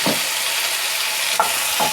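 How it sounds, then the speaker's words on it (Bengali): Bitter gourd and potato frying in a pan, a steady close sizzle with a few soft stirring scrapes over it. "উচ্ছে আর আলুটা আমাদের হালকা ভাজা হয়ে গেছে"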